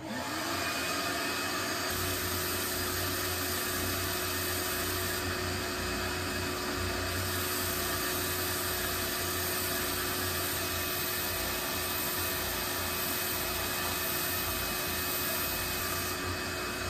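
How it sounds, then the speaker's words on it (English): A belt sander strips a polyurethane finish off a mahogany guitar tail block, giving a loud, steady whine and roar that runs unbroken throughout with no talking. "So I'm going to sand that off over at the belt sander"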